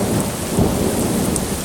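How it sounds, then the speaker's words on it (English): A proper August thunderstorm pours heavy rain outside an open cottage door, a loud, steady roar of rainfall with deep thunder rumbling underneath, and no voices. "So that's a proper storm."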